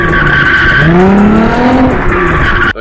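A Hyundai Genesis Coupe drifts with its tires squealing loudly in a sustained, wavering shriek that holds for nearly three seconds before cutting off abruptly.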